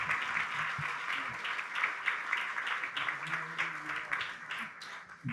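Audience applause at a formal homage and closing ceremony for a history diploma, sustained steady clapping from a crowd at moderate distance, with faint voices underneath throughout.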